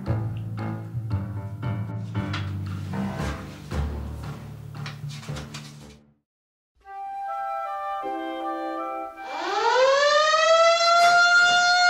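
A siren-style alarm clock goes off in a Siren Head horror film. After a jumble of clattering sound and a short silence, sustained wailing tones swell and rise loudly to the end.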